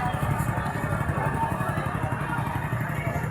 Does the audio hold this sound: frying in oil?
no